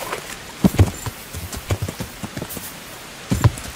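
Horse hooves in the medieval video game Kingdom Come Deliverance, a few scattered heavy thuds clumping in uneven bursts over a faint patter-like background, close and moderately loud.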